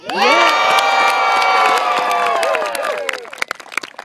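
A loud crowd yells and cheers together, the shouting fading after a few seconds into scattered clapping and applause.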